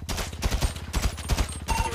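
Loud gunfire erupts in a GTA 5 roleplay game, with rapid repeated shots packed into dense bursts rather than one isolated crack.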